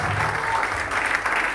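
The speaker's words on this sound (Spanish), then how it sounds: "¿Por qué no le aplaude al Señor?" A church congregation applauds the Lord during a prophetic preaching service, a brief, loud wash of continuous clapping from a crowded room.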